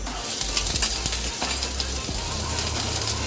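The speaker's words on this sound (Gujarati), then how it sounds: "જીરું શેકાઈ જાય એટલે આપણે એની અંદર ઝીણું કટ કરેલું આદું નાખી દઈશું" Finely chopped ginger sizzles in hot oil with roasted cumin seeds for farali sabudana khichdi, a dense close crackle with a few soft stirring clinks, short and continuous.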